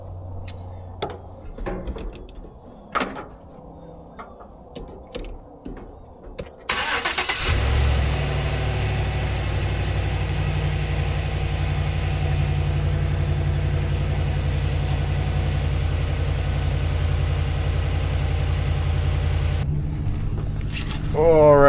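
An old truck with a new battery cranks over and catches after a stretch of talk and clicks, then settles into a loud, steady idle close by that runs for over ten seconds before cutting off.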